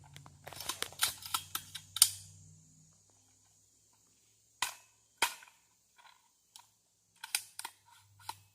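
Two sharp gunshots and metallic clicks from a rifle with a loose STANAG magazine that fails to feed the next round, followed by sparse clicks and handling sounds.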